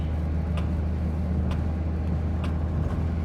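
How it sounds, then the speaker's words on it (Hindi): Volkswagen car cruising in fifth gear at about 100 km/h with its silencer cut off, a loud, steady low engine and exhaust drone with road rumble, heard from inside the cabin, no talking. "आवाज़ आपको थोड़ी ज़्यादा आ रही होगी, उसका रीज़न ये है कि इसका जो साइलेंसर है वो भाई काट रखा है"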